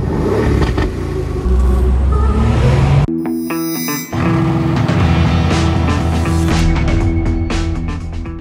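Aston Martin Vantage Roadster convertible engine rumbling and revving loudly throughout, a steady deep drone with a brief drop in the middle before the roar resumes, no talking.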